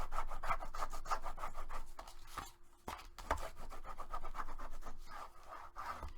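Quick repeated rubbing strokes of a burnishing tool over paper on the back of a card, a soft close scratchy rhythm that pauses briefly midway and then resumes.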